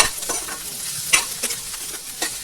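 Garlic sizzling in oil in a pan for pork adobo, stirred with a utensil that gives several scraping clicks over a steady close frying hiss.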